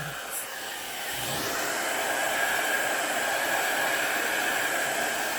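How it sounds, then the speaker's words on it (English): A hair dryer blows with a steady, loud airy roar after a brief start, continuous throughout. "you get your hairdryer"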